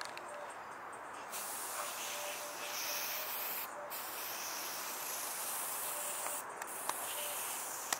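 A spray can of primer hisses softly and continuously as paint goes onto a car roof being repaired for rust holes, with short pauses and a couple of faint clicks.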